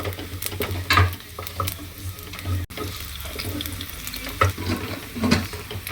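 Small shallots frying in ghee for tempering, a close sizzle with clattering stirs and a low steady hum underneath, no voices.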